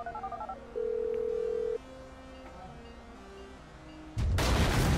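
A phone is dialed in Grand Theft Auto 5: a quick run of short tones, then a long steady beep and softer stepped tones, cut off by a loud burst of game noise at the end.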